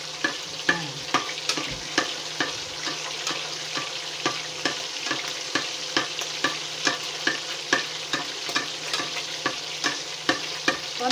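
Tilapia fries in coconut oil with a steady, close sizzle, broken by regular scraping stirs and light clicks of a utensil against the pan; no one speaks.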